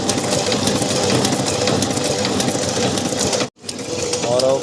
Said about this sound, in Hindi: और अपन प्रिंट करने लगे हैं 7-5 के लिफाफे